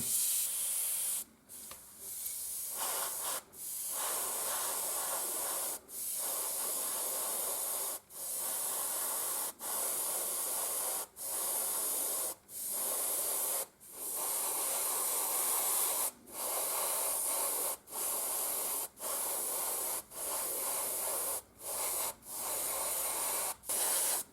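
Airbrush spraying yellow paint onto an Artitec model forklift: a steady, close hiss of spray in repeated bursts, each lasting a second or two, separated by brief silences.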